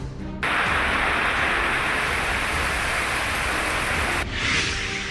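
Heavy monsoon rain pours down in Mumbai, a loud, constant roaring hiss that starts abruptly and runs unbroken before cutting off near the end.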